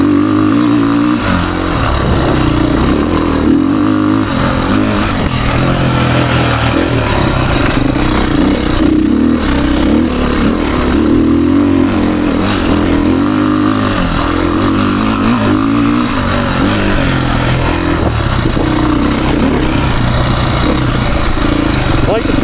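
A Beta Xtrainer dirt bike accelerates hard, its engine roaring loud and close without a break, with the pitch rising and falling as it revs.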